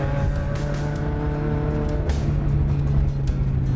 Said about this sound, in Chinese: 在加速的时候也可以听到前面进气的吸气声。 排气的声浪啊，泄压的声浪